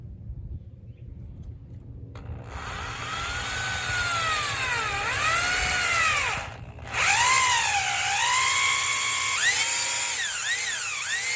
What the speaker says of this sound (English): Here is what happens when you drill straight down without stopping.